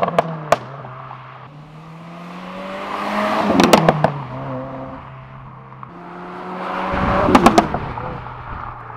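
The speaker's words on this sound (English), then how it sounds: "push in the clutch hard, do a shift, and it'll do a couple of pops and bangs" Subaru WRX VB exhaust popping and banging as the clutch is pushed in for shifts: engine revs climb and fall twice, each time ending in a close, loud burst of sharp crackles and bangs.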